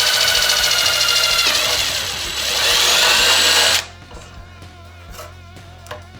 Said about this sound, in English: I'm trying to go right for the drill like a crazy person.